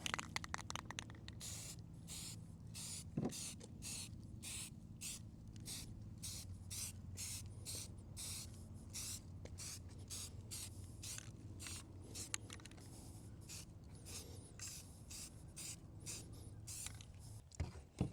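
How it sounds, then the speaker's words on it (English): An aerosol can sprays a coat of primer onto Bronco A-pillar light housings in a series of quick hissing bursts, close and quiet. The short spurts repeat rapidly and fairly evenly, separated by brief pauses, with no voices. "We'll apply the second coat of primer."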